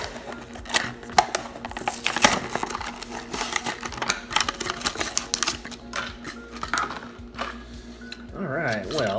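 Plastic blister packaging around a diecast model car is cracked and pried open with a dense clatter of sharp clicks, snaps and crinkles, close up, and a faint voice can be heard now and then.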